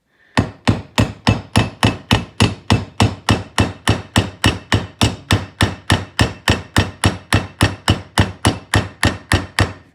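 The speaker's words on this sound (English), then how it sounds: "I'm going to change to a metal hammer now." Steady, rapid metal hammer taps driving a rear wheel bearing into the hub of a 2015 Honda TRX Rancher 420 ATV, about three per second, ringing sharply and evenly throughout, close and loud with no talking.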